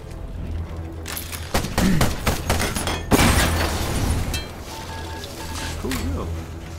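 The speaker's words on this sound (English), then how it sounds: "if you fire the weapon, it looks like it takes 3 ammo per shot" Weapon fire in the video game Ironcast, a dense burst of loud repeated shots and impacts up close, followed by quieter game effects and chimes, with a voice talking over part of it.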